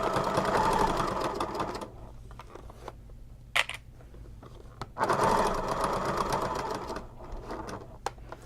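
Sewing machine stitching a crossbody wallet, two close bursts of fast needle chatter separated by a pause with a few small clicks and handling sounds.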